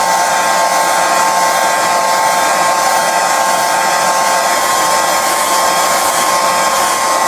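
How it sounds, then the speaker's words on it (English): A hair dryer blows loudly and steadily without a break over a watercolour painting, a constant whooshing roar with a thin whine running through it. "one of the ways to correct it is to get it under a hot hairdryer"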